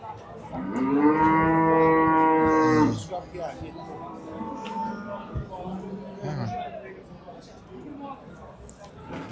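Cattle at a cow market in Qarshi, Uzbekistan: one long, loud, close moo lasts a couple of seconds, followed by market chatter and voices talking in the background.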